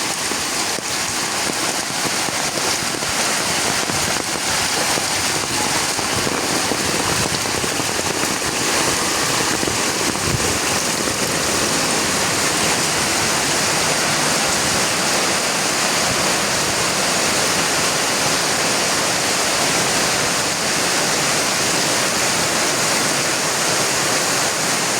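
Water gushes and pours steadily around the grounds of the Suthumalai Amman temple, a loud, dense, continuous rush like a waterfall filling the whole stretch without pause.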